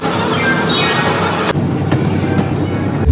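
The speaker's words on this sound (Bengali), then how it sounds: "আমরা আজকে ট্রাভেল করছি 12860 গীতাঞ্জলি সুপারফাস্ট এক্সপ্রেস" Steady broadband rumble of the 12860 Gitanjali Superfast Express running, heard from inside a 3E AC economy coach, with continuous rolling noise and a few faint clicks, loud and unbroken throughout.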